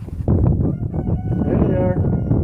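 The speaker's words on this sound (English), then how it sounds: "There are roosters." Roosters on a farm cluck and call in a noisy outdoor barnyard, a drawn-out crow rising briefly near the end amid steady background clatter and some voices.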